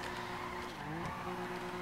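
A Mazda RX-7 drifts in the FiveM driving game, its rotary engine droning in steady tones while a tire skid squeals briefly around the midpoint, loud and continuous with no talk.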